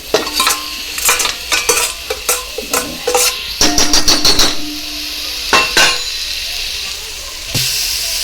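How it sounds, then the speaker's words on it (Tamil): A metal spoon stirs fried paneer into biryani masala in a pan, with loud, close, repeated scrapes and clanks in uneven bursts over a soft steamy hiss. "இப்போ வந்து பன்னீரை வந்து கொஞ்சம் நல்லா மிக்ஸ் பண்ணிக்கணும்"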